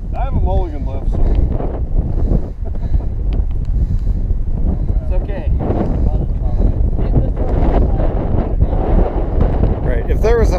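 Steady wind on a golf course roars as a constant rough buffeting against the microphone for the whole stretch. A voice talks intermittently over it.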